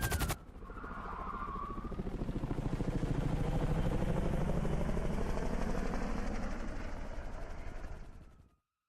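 Helicopter in GTA V during a Fleeca Bank heist pickup, a steady loud rotor drone with rapid chopping pulses that builds and holds for several seconds before cutting off abruptly.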